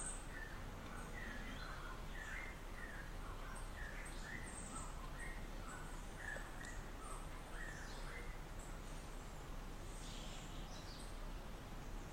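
Birds chirp and call outdoors, with scattered short tweets and song phrases spread across the clip over a steady background hiss, moderately distant and fairly faint.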